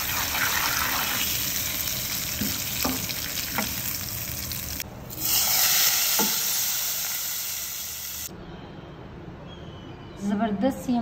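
Loud, steady sizzling of cumin seeds, bay leaves and red chillies dropped into hot oil for tempering dal palak, with someone talking over it and a brief clatter near the end.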